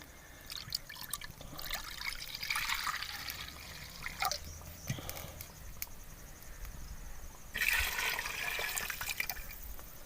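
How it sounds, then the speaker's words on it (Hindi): Water poured into a curry pakora kadhi, a close trickling pour with a few splashy bursts and a louder gush near the end, alone without talk. "तो हम इसके अंदर पानी डालेंगे थोड़ा सा।"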